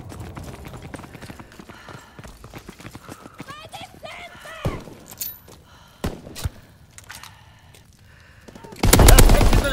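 Gunfire in the World War II shooter Call of Duty: WWII on the Aachen map, scattered sharp shots and bursts among thuds and game noise, ending in a loud sustained burst, with voices shouting over it.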